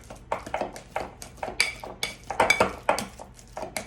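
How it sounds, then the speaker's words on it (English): Fruit being mashed by hand with a potato masher in a bowl: a steady run of soft squelching presses with light clinks of metal on the bowl, close and fairly quiet. "So we're just gonna mash it up until it becomes kind of liquidy."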